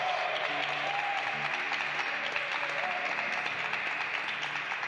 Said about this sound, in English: Give God a round of applause.